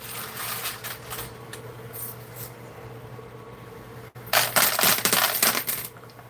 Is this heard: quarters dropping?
yes